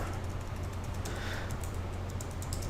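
Brief spell of keyboard typing at a computer, scattered soft key clicks over a constant low electrical hum, no voices present.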